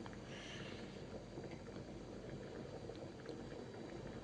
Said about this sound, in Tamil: குழம்பு பாருங்கள், நல்லா கொதி வருது.